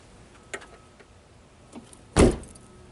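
On a 2008 Subaru Outback after a sticking latch repair, a couple of faint clicks are followed by a single loud, close car door slam as the door closes and latches.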